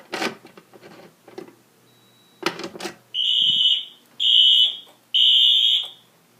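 A fire alarm system goes off on zone 3 after some clicks and handling noises, sounding three loud, harsh electronic horn blasts of about a second each, separated by short gaps.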